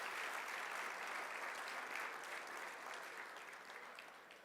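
Sustained audience applause at a high school Hall of Fame awards ceremony, a dense wash of many hands clapping that holds steady and then gradually tapers off toward the end, with no talking over it.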